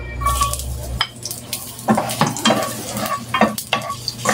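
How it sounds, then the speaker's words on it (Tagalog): Ginger sautéing in a small amount of oil in a pan, a steady sizzle with clinks of a utensil stirring against the pan, loud and close. "At ngayon mga kababsi, ilunod muna natin ang ating luya."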